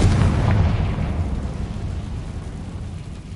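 A Confringo fire spell detonates in the video game Hogwarts Legacy, one loud, close, rumbling explosion that rolls and slowly fades over a few seconds, with no voices.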